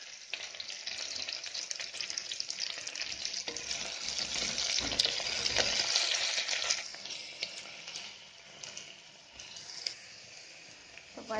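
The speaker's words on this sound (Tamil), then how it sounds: "இப்போ பாருங்கள், வெங்காயம் நல்லா வதங்கிட்டு" Onions sauté in a pan for a millet vegetable rice dish, making a moderate crackling sizzle that swells in the middle and then thins, with occasional stirring scrapes and no talking.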